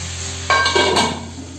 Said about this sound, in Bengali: যতক্ষণ ফুলকপিগুলো ভাজা হচ্ছে